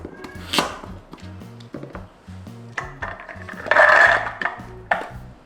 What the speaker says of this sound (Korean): 당근 100g 다져줄게요